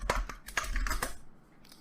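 Quick burst of computer keyboard typing, several sharp close clicks in an uneven rhythm that fade into quiet room tone.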